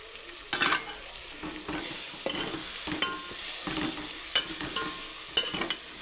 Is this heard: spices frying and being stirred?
yes